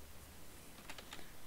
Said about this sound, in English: you'll have to probably hit enter after every single one that you do